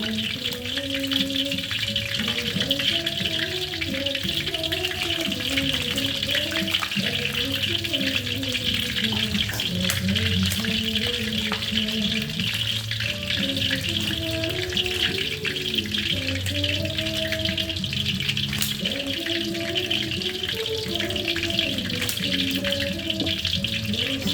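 Battered shrimp deep-fry in hot oil with a continuous, even bubbling hiss that holds steady throughout, close and fairly loud, with faint low kitchen sounds underneath.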